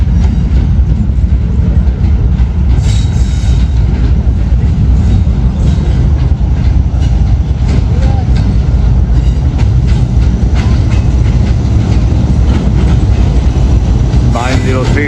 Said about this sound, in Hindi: एक्सप्रेस एक बार फिर राइट टाइम पहुंच रही है जहानिया।